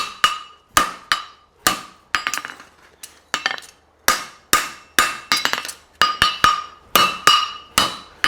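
Hammer striking a horseshoe on an anvil while forging a hind preventer shoe and tightening the toe quarters, sharp ringing metallic blows in irregular bursts, about twenty strikes, close and loud with no talk.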